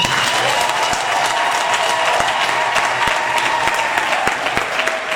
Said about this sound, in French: Sous votre applaudissement